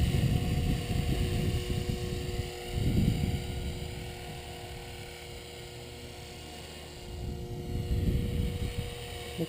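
A rebuilt TRex 500 ESP RC helicopter with a DFC flybarless head on its first test flight after a crash: a steady motor-and-rotor whine and whirr that swells louder, fades back and rises again, heard outdoors with no talk.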